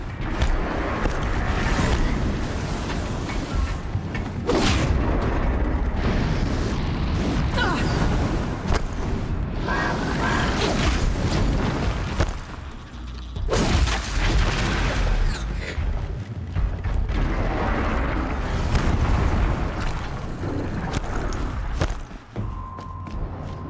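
Loud rumbling bursts and roaring blasts as a machine enemy spews fire in Horizon Zero Dawn, with heavy booms and crackling continuing steadily across the stretch, briefly dropping off before surging again.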